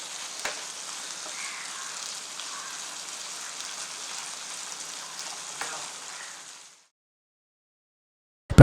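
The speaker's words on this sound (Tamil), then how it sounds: "கொஞ்சம் நேரம் வதக்கிக்கலாம்" Goat head curry sautéing in a pan gives a steady, close hiss of sizzling for nearly seven seconds before cutting to silence.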